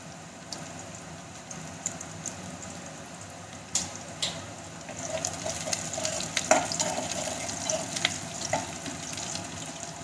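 Chillies fry in a pan in a home kitchen, giving a soft, continuous sizzle with scattered small crackles and light metallic clinks, fairly quiet and steady, with no voices.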